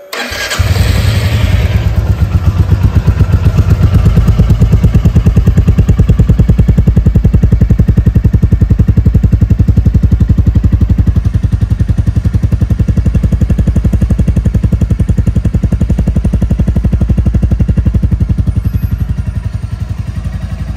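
Royal Enfield Classic 350 motorcycle on its stock exhaust starts up and settles into a loud, steady, deep thumping idle close by, running unbroken for about twenty seconds.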